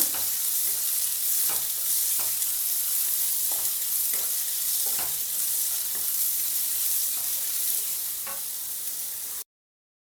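Chopped onions and green chillies sizzle steadily in a hot pan while a spoon scrapes and stirs in repeated strokes, close and continuous for about nine seconds before stopping abruptly.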